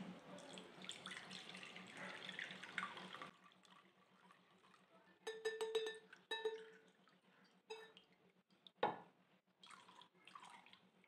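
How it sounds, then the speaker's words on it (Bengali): Freshly ground coconut milk strained in a kitchen, with steady pouring and trickling liquid at first, then scattered drips and splashes close by, over a low background hum. "এরপরে আমি এই নারকেলের যে দুধটা, এটাকে আমি ছেঁকে নেব।"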